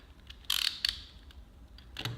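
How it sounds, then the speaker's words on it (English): An open-ended ratcheting wrench clicks on a fitting in a tight space, a few quick faint ratchet clicks in short bursts against a quiet background. "you don't need hardly any room to be able to ratchet the gear, and it's very easy to spin off"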